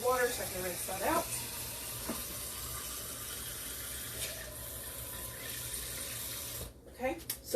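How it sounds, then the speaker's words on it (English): Tap water runs steadily into a container in a home kitchen so it can be rinsed out, a continuous rushing flow that stays fairly quiet, with a few brief clinks at the start and near the end. "fill that with water so I can rinse that out."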